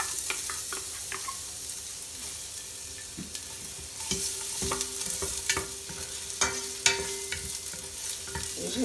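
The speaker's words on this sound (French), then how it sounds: "Alors, l'huile est chaude. On met notre 5 gousses d'ail hachées." Five chopped garlic cloves frying in hot oil for a fish and vegetable soup, a soft steady sizzle with scattered clicks and scrapes of stirring.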